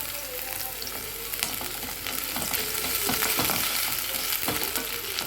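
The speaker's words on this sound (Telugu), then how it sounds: "వెల్లుల్లిపాయ మాత్రం బాగా వేగనండి, వేగితేనే బాగుంటుంది." Grated ginger and garlic frying with a bay leaf in a pan as the base for mutton soup, a steady close sizzle with occasional stirring scrapes and clinks, no talk.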